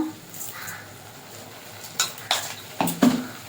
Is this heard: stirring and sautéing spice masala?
yes